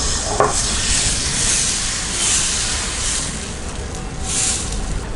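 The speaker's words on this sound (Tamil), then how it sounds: "தோசை ஊற்றிக்கலாம்." Dosa batter on a hot griddle gives a continuous loud sizzling hiss that swells and eases over several seconds, with a faint tap near the start; no talking.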